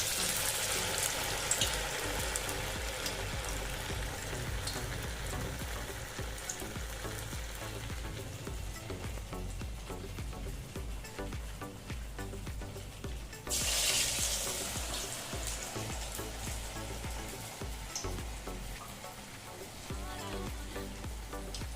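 Sprout cutlets coated in flour batter and poppy seeds fry in hot oil with a dense, steady sizzle, which swells and turns brighter midway as more cutlets go in.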